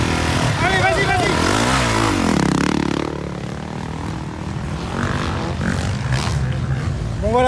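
A motocross motorcycle revs through rising, howling engine pitches for a few seconds, then drops to a lower, rougher drone at a Loon-Plage race round, with people talking loudly over it throughout.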